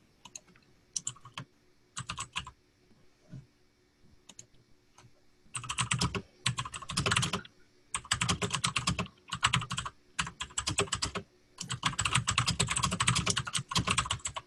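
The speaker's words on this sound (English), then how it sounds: "Josh has got the cherry MX keys on" Typing on a computer keyboard with Cherry MX mechanical switches, sparse keystrokes at first, then dense bursts of rapid clicking, close and clear with no talking.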